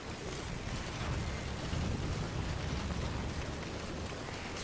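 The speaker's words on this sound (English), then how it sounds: "This wind is ridiculous." Steady, roaring wind sweeps across open terrain in Death Stranding, a continuous broadband rush that holds at an even, fairly loud level throughout with no voices.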